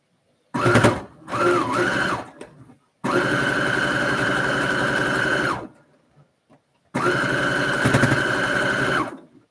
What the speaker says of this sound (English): Have just the brother sewing machine.